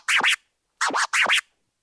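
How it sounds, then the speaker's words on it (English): A DJ scratches a vinyl record by hand on a turntable with the crossfader left open, three close, loud strokes heard alone: one short scratch, a pause, then two more in quick succession. "The motion with the record is one short baby and then one long."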